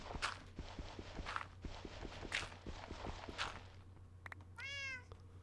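Footsteps tap along in a regular rhythm through Minecraft, then a single clear, close cat meow rings out near the end, with no talking.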